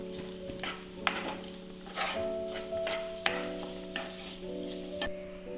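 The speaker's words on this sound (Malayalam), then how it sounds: "എന്നിട്ട് സബോള ഇട്ട് കൊടുക്കാം. വെളുത്തുള്ളി, പച്ചമുളക്, ഇഞ്ചി, വേപ്പിൻ്റെ ഇല ഇതിട്ട് നല്ലപോലെ വഴറ്റാം." Onion, garlic, green chili, ginger and curry leaves sauté in oil with a steady, moderate sizzle, broken by scattered sharp clicks of stirring against the pan, over a constant low background hum.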